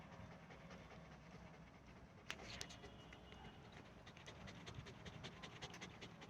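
A dog panting in quick, steady, faint breaths, rhythmic and continuous against quiet background noise, with a couple of small knocks.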